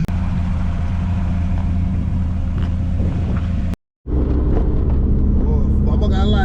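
A Mazda MX-5 Mk1 engine roars loudly close by, steady and rumbling, cuts out abruptly for a moment, then returns with rising revs.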